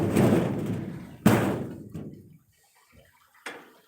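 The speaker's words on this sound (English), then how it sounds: "Once this door is shut, it's shut." Door being shut: a burst of heavy rushing noise, then a sharp loud slam that decays away into near silence, with a faint thump near the end.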